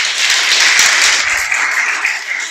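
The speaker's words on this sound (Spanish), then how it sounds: "Dale un aplauso, pues." A church congregation bursts into steady, dense applause, many hands clapping together close and loud for the full stretch with no talk over it.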